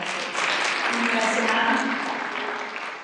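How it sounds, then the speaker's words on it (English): A church congregation applauds at a Sunday service, a dense, steady wash of clapping that holds for a few seconds and then begins to fade. "Give them a round of applause for that."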